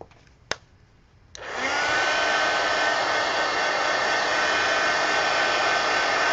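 A hair dryer drying a page in a coloring book: a brief click, then the motor starts and holds a loud, steady broadband blowing rush for several seconds with no talk.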